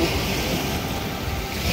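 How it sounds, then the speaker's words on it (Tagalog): Strong surf rolling in at high tide on a beach at Carles, Iloilo, a steady loud wash of breaking water with a windy rumble that stays constant throughout, no voices heard. "High tide eh. Lakas ng alon eh"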